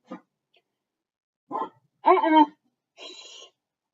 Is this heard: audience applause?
no